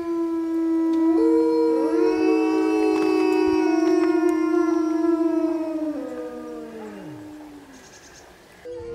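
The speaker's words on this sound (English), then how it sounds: "Number 4. Wolf pack." Wild wolf pack howling, several long overlapping tonal howls rising and sliding together, loud and close, then fading out one by one.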